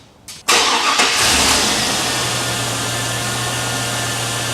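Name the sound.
2000 Chevrolet Suburban engine starting and idling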